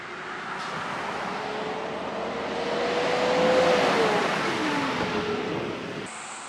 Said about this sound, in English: There's still a good bit of traffic out here